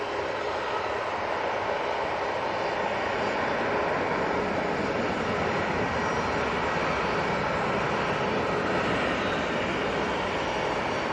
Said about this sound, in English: that Easyjet was off to Faro